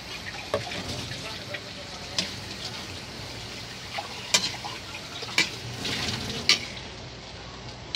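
Sliced chayote dropped into a pan with sardines crackles into a steady sizzle, with light stirring scrapes and occasional sharp pops and clinks of a utensil, close and moderately quiet, with a voice speaking over it.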